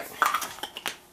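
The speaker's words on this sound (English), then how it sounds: "I'm going to go ahead and use an ordinary tablespoon to start scooping out these cookies" An ordinary metal tablespoon scoops cookie dough, making a few quick, light clinks and scrapes against the bowl, close and fairly quiet.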